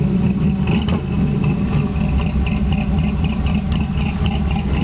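A 1956 Chevy 3100 pickup truck revs hard through its exhaust, a loud, close, deep engine roar holding high RPM with a rough, throbbing cam note and no voices.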